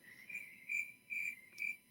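Crickets chirp in a faint sound effect, with a steady high trill that swells into four regular pulses against a quiet background.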